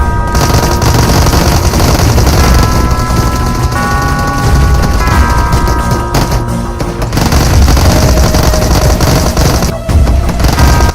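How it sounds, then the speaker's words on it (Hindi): Dense video game gunfire roars continuously, with rapid machine-gun bursts and booming shots layered together at high, constant loudness and brief gaps near the end. "अबे सालों, कितनी गोलियां लेके आए हो, बरसाए जा रहे हो"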